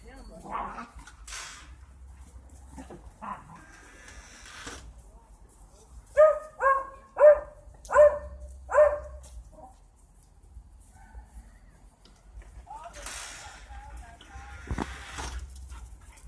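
Dogs fighting, with a burst of about four loud, rhythmic barks and yips in the middle, quieter scuffling before and after, and someone talking over the scene.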